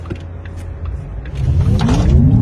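An electric Porsche accelerating hard, its electric whine rising steadily in pitch and loudness over a low rumble of road noise.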